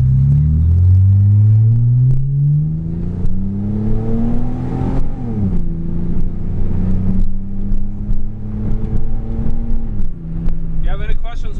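A 2003 Mitsubishi Eclipse GTS V6 with a loud aftermarket exhaust revs up with a rising growl, then settles into a loud, throaty rumble that swells and dips, with a voice talking over it throughout.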